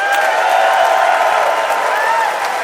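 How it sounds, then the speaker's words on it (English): A studio comedy audience at a debate show applauds and cheers to vote for a comedian, a dense continuous wash of clapping and whoops. "It's time to vote by applause."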